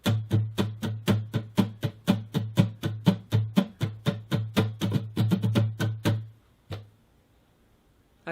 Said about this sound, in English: it is just two strums